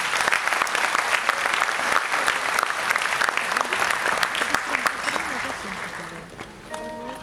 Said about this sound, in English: please give her a huge round of applause.